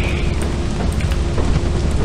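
Steady rain falls in the video game Lethal Company, a dense, continuous hiss with a low rumble underneath, loud and unbroken for the whole stretch.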